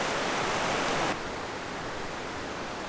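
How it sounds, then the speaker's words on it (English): A waterfall in Aurlandsdalen roars as a steady broadband rush, loud and continuous, easing slightly partway through as if the listener moved or turned, with no voices over it. "So there's the waterfall just opposite the island"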